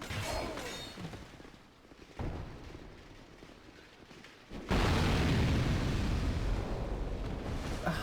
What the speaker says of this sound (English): That was an explosion I wasn't expecting.